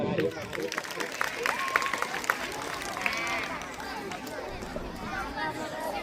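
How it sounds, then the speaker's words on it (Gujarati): An audience at a school cultural program claps steadily as students are called to the stage, the applause blended with crowd chatter and voices throughout. "તાળીઓ પાડશું."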